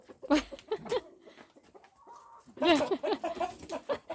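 Roosters and hens on a farmstead cluck and call in short bursts, with a pause in the middle, while people talk nearby.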